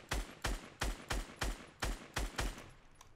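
Fortnite Battle Royale gunfire rings out in nine evenly spaced, sharp shots across about three seconds. Each report is loud and punchy with a short decay, and no one speaks.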